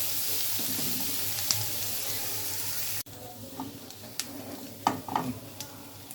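Onions fry in a pan for tomato bharta, giving a constant low sizzle broken by a cut partway through, then quieter crackling with occasional stirring clacks up close.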